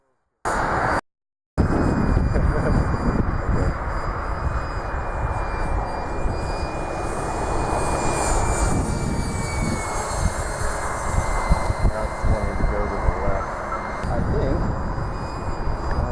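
Model F-105 Thunderchief airplane on its maiden flight, its engine droning steadily and fairly loud throughout after a brief cutout at the start, with a faint high whine riding over the continuous roar.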